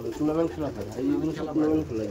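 Madras pigeons in a loft coo steadily in soft, repeated rolling phrases, nearly drowned by someone talking close by.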